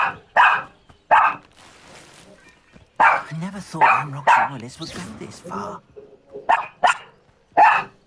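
Dog barking inside a video game, a few sharp yips and barks heard intermittently under a game character's dialogue and scattered speech.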